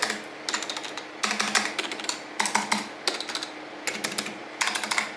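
Fast typing on a KBParadise V60 keyboard fitted with Matias Silent Linear Alps switches, quiet clustered bursts of muted keystrokes with short pauses between them, heard close up with no talking.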